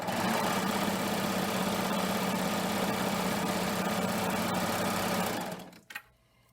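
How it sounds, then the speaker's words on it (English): A serger runs steadily while trimming the edge of woven fabric, a dense continuous mechanical whir that holds for several seconds and then stops, followed by a couple of faint clicks. "If I'm joining two pieces of a woven fabric together, I'll have my serger trim off a little bit."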